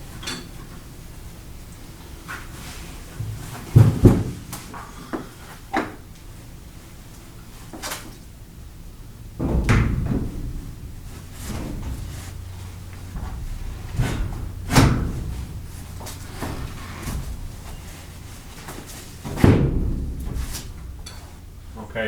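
A van door panel is lifted into place and latched shut, giving several heavy, close metallic clunks and thuds at irregular intervals with lighter handling knocks between.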